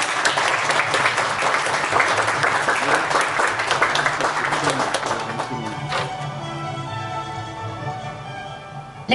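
Applause at a high school graduation ceremony for fourth-year students, a loud burst of many hands clapping that thins out and fades over several seconds into quieter room sound.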